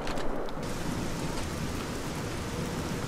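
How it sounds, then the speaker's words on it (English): Steady rain hisses and patters in Fallout New Vegas, a broad, continuous downpour with no voices, holding even and fairly loud throughout. "I hear rain, but there's no rain"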